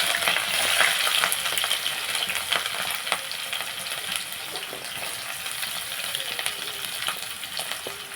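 Chopped green chillies and onions fry in a pan with a loud, steady, close sizzle, crackling and spitting throughout with occasional sharper pops and stirring scrapes.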